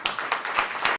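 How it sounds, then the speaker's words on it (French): Brief, light clapping from an audience at a school gala evening in a lycée hall, a handful of scattered claps over about a second. "Vos applaudissements, s'il vous plaît."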